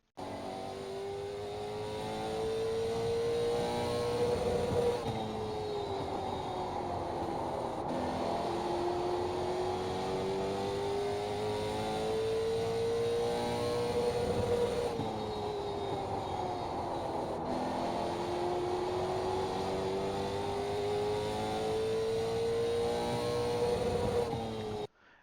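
Late Model Stock car lapping Martinsville in the iRacing sim, a steady loud engine drone rising and falling through shifts as it accelerates down the straights and slows into the turns, two full laps with no talking.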